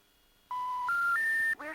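Phone dialing tones in The X-Files video game: three rising, steady electronic tones in quick succession, loud and clean, ending with a short burst of another sound.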